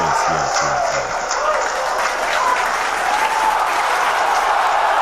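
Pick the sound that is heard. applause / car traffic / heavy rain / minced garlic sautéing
applause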